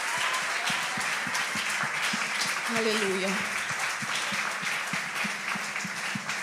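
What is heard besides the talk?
church congregation applauding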